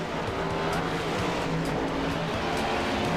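NASCAR Cup Series race cars running at North Wilkesboro Speedway in iRacing, a steady dense engine roar with a continuous low drone and no clear passes or breaks.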